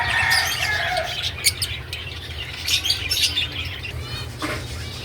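Birds chirp and tweet busily during feeding in an aviary in breeding season, with bursts of wing flapping and a few squawks over a steady low hum.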